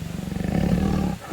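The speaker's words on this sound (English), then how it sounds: "See, it really roars. We can hear roaring of that." A lion-like roar plays from a 3D animated animal phone app, one sustained low growling roar lasting about a second, loud and close with no talk.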